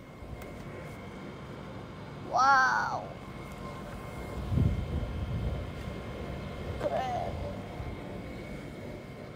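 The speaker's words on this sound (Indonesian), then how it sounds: "Gak ada pesawat, itu suara mesin AC kak." An outdoor air conditioner unit runs with a steady, low mechanical drone that continues throughout at a quiet level, while someone talks and exclaims over it.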